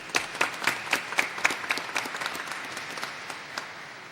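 Audience applause at a committee session, sharp clapping that starts strong and gradually thins and fades over a few seconds.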